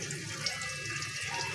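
Potatoes rinsed under a running kitchen tap, a steady close hiss of flowing water with light splashing throughout.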